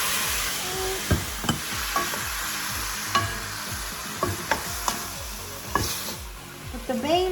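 Garlic sautéing in a pan for goat caldereta, a steady close sizzle punctuated by sharp clacks of a utensil stirring against the pan, with no one speaking.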